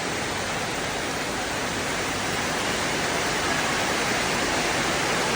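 Heavy rain pours down on a Thai night market in the early evening, a loud, steady, dense hiss of downpour that stays constant throughout with no voices.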